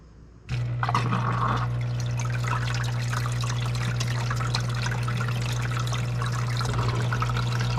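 An Anbull commercial ice machine runs a rinse cycle with water, starting abruptly with a steady motor hum while water pours and trickles close by.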